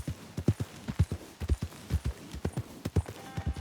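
Horse hooves clip-clopping in Red Dead Redemption 2, a steady walking rhythm of sharp, evenly spaced thuds, moderately loud and alone.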